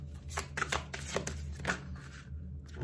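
Oracle cards are shuffled and drawn by hand, giving quiet, close bursts of papery riffling and soft flicks in an uneven rhythm, with a low background hum and no speech.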